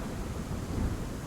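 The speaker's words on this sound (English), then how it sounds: "there's a thunderstorm going on" A thunderstorm rumbles low and broad with rain hissing steadily, a brief dark swell of noise as background ambience.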